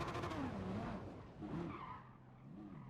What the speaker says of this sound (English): I've lost the grip in the tyres